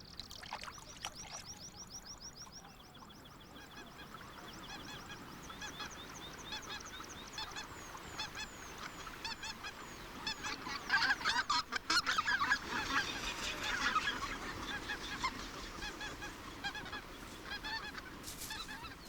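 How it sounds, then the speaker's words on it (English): A flock of white-fronted geese honks repeatedly, the calls overlapping and growing louder and busier, with light splashing water in the background. "White-fronted geese are the first to arrive"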